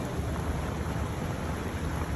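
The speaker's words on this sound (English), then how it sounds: "A storm in Montana howled like a beast, toppling ancient trees." Thunderstorm in Montana with heavy rain and deep thunder rumble, a dense, steady roar of wind and downpour throughout, loud and close, with no voices.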